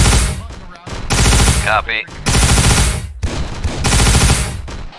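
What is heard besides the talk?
gunfire in ARMA 3 Warhammer 40k video game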